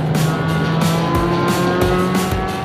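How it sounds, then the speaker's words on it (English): A race car engine in a driving simulator on the virtual Mazda Raceway screams loudly through gear changes, with rising whines, brief tire squeals and rhythmic shifts in pitch, no talking. "see if I can throw down some hot laps with my friend CJ in the car"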